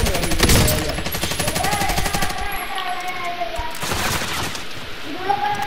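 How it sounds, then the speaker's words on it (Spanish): Dense, continuous automatic gunfire and overlapping shots in Call of Duty: Modern Warfare fill the whole stretch, loud and close, with rapid bursts and some distant fire under brief voices. "Me están disparando"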